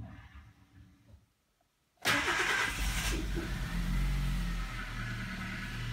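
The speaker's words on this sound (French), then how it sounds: "Et voilà, donc la voiture est repartie" A Chevrolet Aveo engine starts just after a fuel pump replacement. About two seconds of quiet give way to a sudden crank and catch, then a steady, fairly loud idle that continues with no talk.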